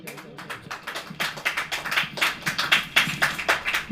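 A congregation claps hands during a church sermon, a steady run of sharp claps building in density and loudness, with no talk over it.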